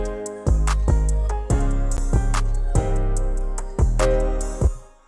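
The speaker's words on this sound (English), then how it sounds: "Here's the high drop." A trap beat's high drop, produced in Cakewalk, hits hard with deep booming 808 bass and sparse crisp percussion, plus a melody over several loud, spaced hits, with no voices.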